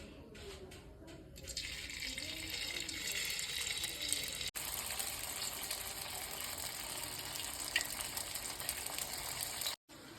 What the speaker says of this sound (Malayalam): നമുക്ക് അതിലേക്ക് നമ്മൾ മിക്സ് ചെയ്ത് വെച്ച കോളിഫ്ലവർ ഇട്ട് വെക്കാം.